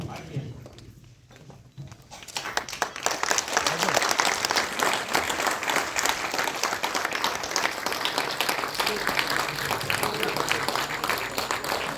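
A ceremony audience applauds director S V Rajendra Singh Babu at a 50-year celebration of Muthina Haara, the clapping swelling after a couple of seconds into a dense, sustained roar of many hands that holds steady to the end.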